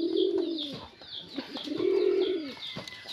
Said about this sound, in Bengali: এই যে কবুতরগুলা দেখেন কত সুন্দর।